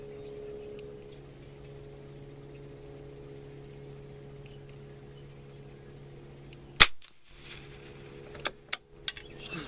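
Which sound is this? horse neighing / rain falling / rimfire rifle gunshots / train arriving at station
rimfire rifle gunshots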